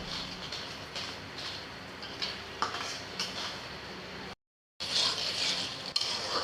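Turmeric, cumin, coriander and chili powder are stirred in a pan while frying for a potato and egg curry, with faint scraping, utensil clinks and a soft steady sizzle, briefly cut to silence.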